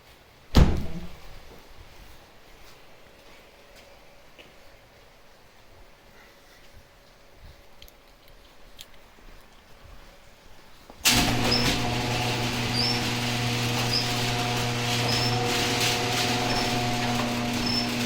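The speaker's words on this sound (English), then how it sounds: "Alexa, close garage door." A residential garage door closes: a sharp click near the start and a long quiet stretch, then the motor abruptly kicks in with a loud, steady droning hum that continues to the end.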